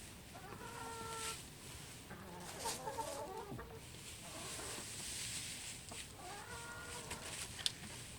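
Hens clucking and calling inside a straw-bedded chicken coop, several birds giving repeated broken clucks and short squawks at close range over a steady low background hum, no talking.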